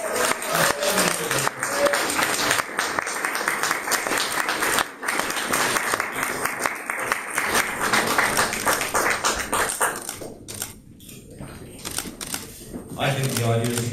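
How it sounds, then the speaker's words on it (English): At an arts awards event, a hall audience keeps up loud, continuous applause as an honoree approaches, thinning briefly near the end while camera shutters click and voices speak underneath. "give him more rounds of applause."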